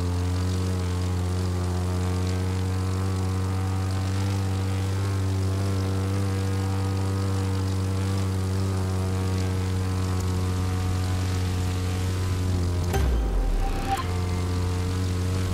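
A propeller airplane in the driving game The Crew 2 drones steadily with a strong low engine hum and harmonic whine, constant and close, before shifting abruptly near the end as the plane nearly crashes.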